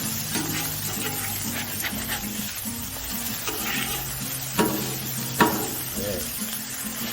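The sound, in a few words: sausage sizzling on a Blackstone griddle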